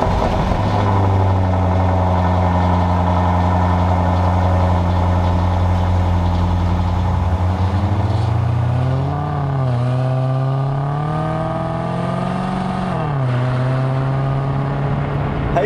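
Maserati Quattroporte fitted with a new aftermarket exhaust, engine loud and close, a steady low idle that swells into rising and falling revs under load, with no talking.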